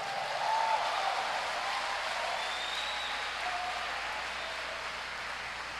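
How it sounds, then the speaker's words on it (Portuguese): A church congregation applauds during a sermon, a dense, continuous roar of many hands clapping together, loud and even at first and easing slightly as it carries on, with no voices over it. "Pode aplaudir o Senhor por isso."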